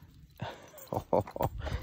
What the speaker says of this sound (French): Mais ce sont ces grands chiens là qui aboient, et Goliath, ça l'énerve.